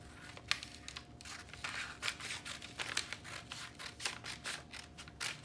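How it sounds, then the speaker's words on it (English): Steady snips of sewing scissors cutting fabric pieces for a petal tulip sleeve, close and fairly quiet, a rapid irregular series of crisp cuts with light paper-like rustling between them. "I'm gonna go ahead and cut this out."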